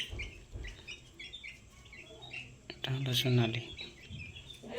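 Ten-day-old Sonali chicks, about a hundred of them huddled together, give faint, scattered chirps. Someone speaks over them, and louder peeps and rustling build near the end.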